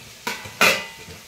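Spiced pea and cabbage filling with ginger, green chilli and fennel frying in a pan, heard as two sharp stirring scrapes of a spoon against the pan over a soft sizzle, close and fairly quiet.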